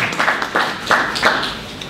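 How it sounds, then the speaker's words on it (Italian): An audience at a political gathering claps for a young speaker, a short burst of scattered, uneven handclaps from a small crowd, fairly close and without talk. "Facciamo un applauso a sto ragazzo."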